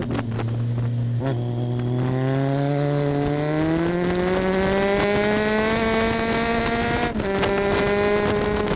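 A GTR1400 motorcycle accelerates on the track at Oulton Park, its engine note rising steadily in pitch under load with a brief lift before pulling on again, loud and close, no voices.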